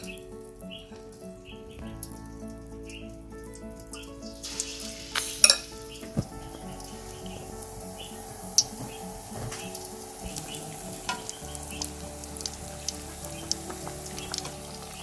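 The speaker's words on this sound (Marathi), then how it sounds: "याला मंद आचेवर आपण छान तळून घेऊ आणि बाकी पण पकोडे टाकू." Paneer-stuffed pakoras fry in oil over low heat, a steady close sizzle and bubbling that runs throughout, with occasional stirring clinks and small pops layered on top and no talking.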